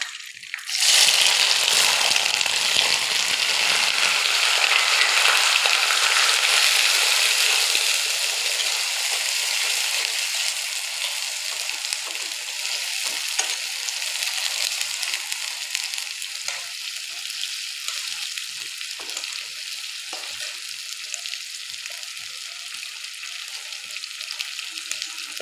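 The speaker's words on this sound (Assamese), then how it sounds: "এতিয়া মই পিঁয়াজ নহৰুখিনি এড কৰি দিম" Onion and garlic hit hot oil in a pan with bay leaf and whole spices, bursting into a loud, steady hiss that settles into a softer continuous sizzle with occasional stirring crackles, no voices over it.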